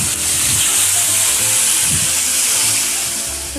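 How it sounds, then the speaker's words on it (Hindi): Small fish sizzle steadily in hot oil for a Bihari-style small fish curry, a loud continuous hiss and crackle close up with faint stirring clinks underneath. "तो चलिए हमने सारी मछली को फ्राई कर ली है अच्छे से"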